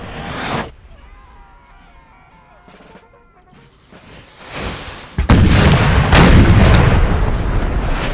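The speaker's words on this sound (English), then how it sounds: "I presume it's dueling with the French artillery" Artillery fire on a Napoleonic battlefield in Napoleon Total War, recreating the 1813 Battle of Leipzig: a loud booming cannon blast, then sustained heavy rumbling gunfire and crashing explosions that fill the second half.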